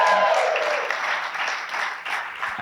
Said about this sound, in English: Applause for running. Applause for doubling the Greens vote in the course of that.